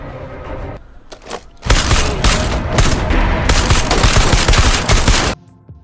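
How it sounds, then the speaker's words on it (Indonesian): Rapid automatic gunfire erupts in a film gunfight between drug-cartel gangs and soldiers, a dense, loud barrage of shots sustained for several seconds after a few scattered earlier bangs, then stopping abruptly. "Baku tembak pun terjadi"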